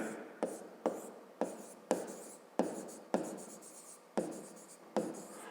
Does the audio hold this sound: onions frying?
no